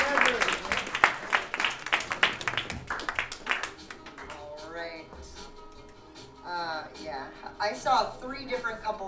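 Audience at a fellows' gathering applauds briefly at the start, a burst of many hands clapping that fades as a voice begins speaking.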